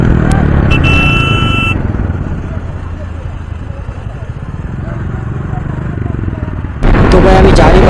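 A 220cc motorcycle revving hard during a wheelie attempt, loud and close, the engine swelling and easing over several seconds before a sharp burst near the end, with a horn-like tone early on and voices under it.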